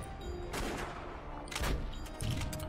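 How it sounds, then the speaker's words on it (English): An oak bark cannon fires in the steampunk Wild West game Age of Grit, a rapid volley of booming blasts with crackling impacts, several bursts in quick succession at moderate loudness. "Your oak bark cannon has dealt 30 damage."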